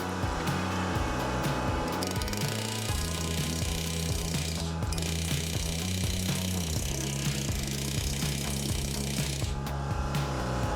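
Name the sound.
planishing hammer smoothing sheet metal cab brace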